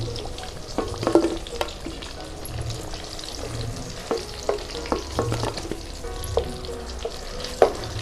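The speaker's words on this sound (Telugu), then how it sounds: "ఇలా కలిపితే కాయ సమానంగా ఏగుతుంది వంకాయలు ఇలా కలర్ చేంజ్ అవుతాయి కదా" Eggplant pieces fry in hot oil while being stirred, with a steady sizzle under scattered clinks and scrapes of the spoon against the pan, close and moderately loud, no talking.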